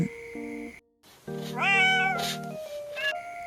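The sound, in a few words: kitten meowing in reply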